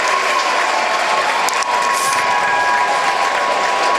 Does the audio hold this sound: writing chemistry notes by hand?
no